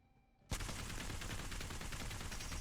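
Sustained automatic gunfire from a weapon fired while aiming down sights in Apex Legends, starting abruptly after a short quiet lead-in and continuing as a loud, dense, unbroken burst to the end.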